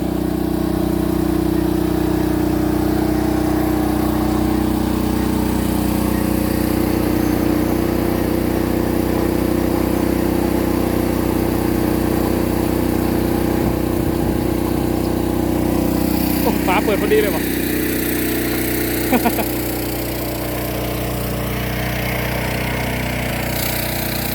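A steady engine-like hum of equipment charging agricultural drone batteries drones continuously throughout, with brief clatters near the end and no one speaking.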